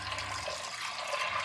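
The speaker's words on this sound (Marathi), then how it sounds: "आता पाणी टाकते." Water poured into a pressure cooker holding black peas, a steady, close splashing pour that runs unbroken for the whole stretch.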